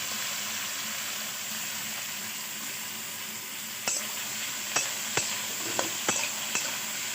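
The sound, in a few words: chopped potatoes frying with ginger and chilli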